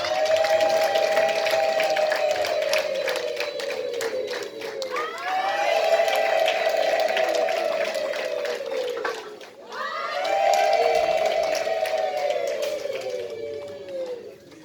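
Parents at a Rwandan family-welcoming ceremony applaud and ululate, a loud, sustained crowd of clapping with rising, warbling cries that swell in three waves and dip briefly between them.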